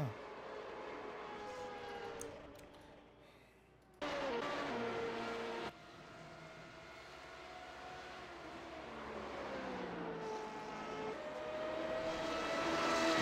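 High-pitched V8 race car engine in the iRacing sim, a steady screaming whine with rising and falling pitch through gear changes, loud and continuous with no talking.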